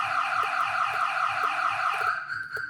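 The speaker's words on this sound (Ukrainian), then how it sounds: "Коли появиться живлення, включається сигналізація." The car alarm on a 2007 Volkswagen T5 2.5 TDI van sounds loud and close as the power comes on, with rapid repeating electronic chirps that cut off near the end, and no talking.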